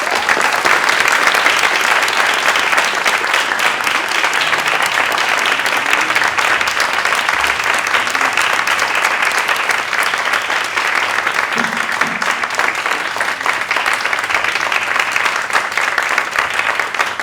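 A seated audience applauds at the close of a literary talk at SESC Vila Mariana, sustained, dense, even clapping that carries on strongly for the whole stretch with no pause.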